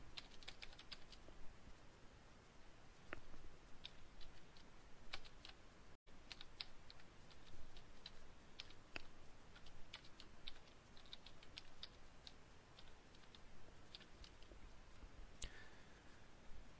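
Quiet, steady typing on a computer keyboard, with scattered soft key clicks and a few sharper taps throughout, close and alone with no talking.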